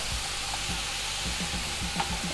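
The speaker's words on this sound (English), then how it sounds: "I'll start to brown this ground beef. Have a little bit of oil in there, just about a teaspoon and a half of olive oil." Ground beef browning in about a teaspoon and a half of olive oil in a pan, a steady soft sizzle with occasional scraping stirs, close and fairly quiet, no talking.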